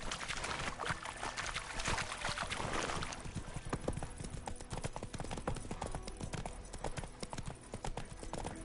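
Horse hooves in the video game The Witcher 3: Wild Hunt clip-clop in a steady, rapid rhythm, loud and close, over a dense background wash.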